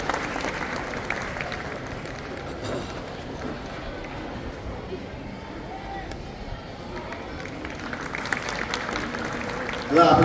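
An audience at a school farewell ceremony for retiring English teachers claps steadily and loudly for about ten seconds, a dense wash of hands filling the hall without pause.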